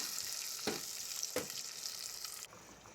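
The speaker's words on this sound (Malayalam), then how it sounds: "ഒരു മൂന്ന് തക്കാളി ഇട്ട് കൊടുത്തു അതും ഒന്ന് നല്ലോണം വഴറ്റിയെടുക്കാം" Tomatoes sauté in a pan with a soft, continuous sizzle, punctuated by two brief stirring scrapes and a slight drop in level near the end.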